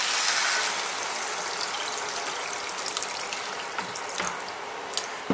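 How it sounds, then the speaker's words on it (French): Water is poured into a pan of frying beef, onions and black mushrooms, a gushing splash and hiss that settles into lighter sizzling with a few small clicks and bubbles, close and steady. "je mets de l'eau."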